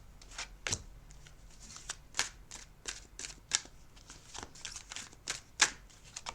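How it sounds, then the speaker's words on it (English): Tarot cards shuffled and dealt onto a table: repeated crisp riffling and slapping snaps at an irregular pace, close and fairly quiet, with no talking. "I'll lay out 5 cards and we'll see what messages and guidance comes through."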